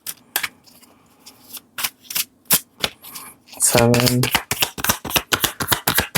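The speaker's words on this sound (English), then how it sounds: "I'm going to do a little bit of a different shuffle" Cards being shuffled in quick, crisp riffles and taps, close by, with a voice briefly speaking partway through.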